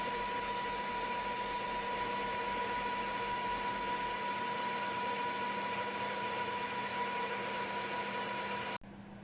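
Schaublin SV-51 Variator lathe turning a taper on an axle, a steady close whirring hum with a constant whine running almost unbroken, then cutting off abruptly near the end.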